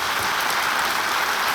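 A studio audience claps to welcome a guest on a televised quiz show, a dense, even wash of applause that stays loud and steady for the whole short stretch.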